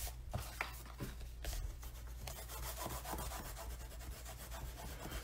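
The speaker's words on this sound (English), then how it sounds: "I take my bone folder and just run it across to burnish" A bone folder is pressed and rubbed across freshly glued paper on a craft card, giving quiet dry scraping strokes with a few sharper swipes in an even back-and-forth rhythm.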